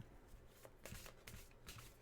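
A tarot card deck is shuffled in a few quick, soft riffling bursts, close and quiet with no talking.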